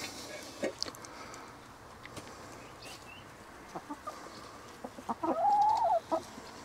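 Chickens in a garden cluck in sparse, soft bursts against a quiet outdoor background, with one louder, drawn-out call toward the end.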